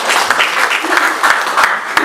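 A church congregation claps at a Sunday worship service, a steady wash of hand claps with a few sharper strikes standing out, sustained for about two seconds.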